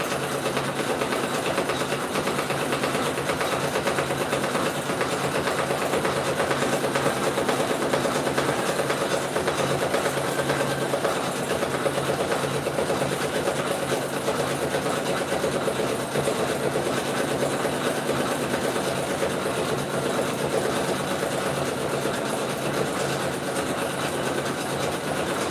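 An embroidery machine stitches an in-the-hoop appliqué piece, giving a steady, dense mechanical whir that runs unbroken and fairly loud throughout, with no talk over it.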